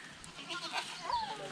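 A goat bleats once at a monkey sanctuary, a short wavering cry heard moderately close over faint outdoor background noise.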